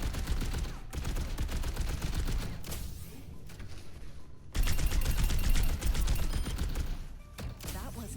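Sustained automatic weapon fire from a hero in the shooter game Overwatch, dense rattling bursts running nearly the whole time with a short break and a louder stretch in the middle.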